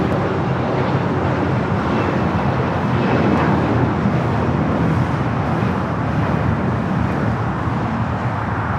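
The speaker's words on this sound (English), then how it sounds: "Qantas Flight 11 about to land 24 right." A Qantas airliner arriving from Sydney lands on runway 24 right at Los Angeles airport, heard as a dense, continuous jet roar that stays loud and even throughout.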